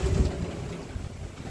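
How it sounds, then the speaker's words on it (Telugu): Strong gusty evening wind outdoors near huts roars and buffets the microphone in a brief, loud, low rumbling blast. "గాలి చూడండి ఏ విధంగా తాగుతుంది అసలు"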